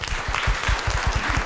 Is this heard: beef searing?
no